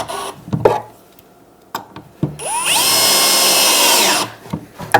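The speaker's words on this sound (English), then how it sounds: "Now I got to drill and countersink the holes" A power drill bores and countersinks holes in a drill station being built in a workshop, a steady whirring run of about a second and a half, close and loud, framed by short bumps and handling knocks.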